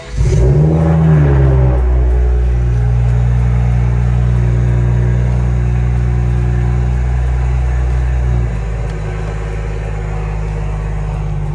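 A car engine revs loudly and steadily as the car pulls away, a sustained rising roar that eases slightly near the end, with no talk over it.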